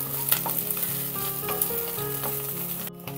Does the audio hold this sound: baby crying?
no